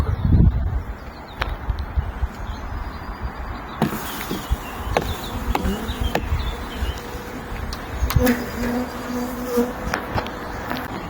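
Honey bees swarm and buzz around an open beehive in an April apiary, a dense, close droning hum with sharp clicks and knocks of hive work scattered through it and no talking.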